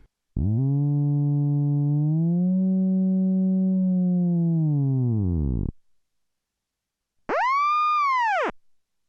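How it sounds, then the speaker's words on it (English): A buzzy tone from a Pittsburgh Modular Voltage Lab 2 synthesizer, its oscillator's sine wave patched back into its own FM input, holds and bends in pitch for several seconds, stops, then a shorter, higher, rounded electronic tone swells and cuts off. "here's how it sounds when I patch the sine wave of oscillator 1 back into the FM input"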